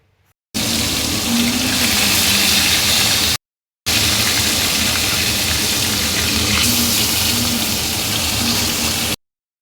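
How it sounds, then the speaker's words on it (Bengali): Pieces of foli fish, mostly heads, frying lightly in hot oil, a loud, dense, steady sizzling hiss close up, cut by a brief gap of silence partway through. "প্রথমে তেল গরম হয়ে গেছে, এবার মাছগুলোকে একটুখানি করে ভেজে নেব"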